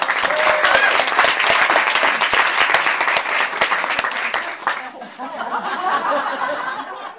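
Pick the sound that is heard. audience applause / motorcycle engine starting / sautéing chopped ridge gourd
audience applause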